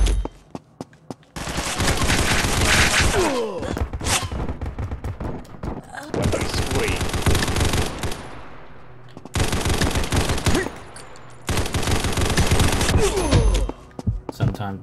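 Long bursts of rapid automatic fire from an AK-variant rifle in the shooter game Combat Masters, loud and close, broken by short pauses, with a faint voice now and then.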